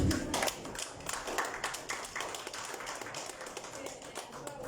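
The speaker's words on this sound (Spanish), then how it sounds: "Fuertes palmas, por favor." Audience at a Peruvian political event of the Partido de Unidad Popular applauding loudly, a dense run of hand claps lasting several seconds with some background voices.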